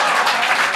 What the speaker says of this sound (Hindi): ये जो तालियां बज रही हैं टीआरडी के लिए